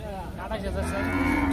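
Cattle low at a rural cattle market in Tangail, a sustained moo rising and holding over a bustle of the market in the background, fairly close and clear.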